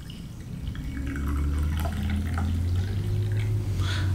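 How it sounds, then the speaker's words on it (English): Fresh brewed Jack Daniel's Tennessee Whiskey flavored coffee streams from a pot into a cup in a steady, close liquid pour. It fills continuously for several seconds with a gentle gurgle and no speech. "We have our fresh brewed Jack Daniel's Tennessee Whiskey coffee here, and let's just pour it"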